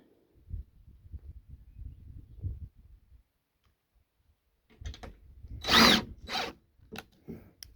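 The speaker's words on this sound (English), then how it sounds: "My drill motor's about to give out." Quiet rustling and handling give way to several short, loud bursts of a power drill with a failing motor whirring, drilling into house siding to wall-mount solar panels.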